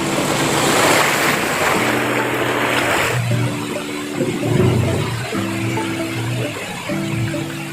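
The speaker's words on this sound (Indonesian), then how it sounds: "Wah, terus ada ombaknya." Ocean waves surging and washing continuously near a vehicle on a rough road to a remote area, with steady wind noise across the microphone and low engine hum underneath, loud and close throughout.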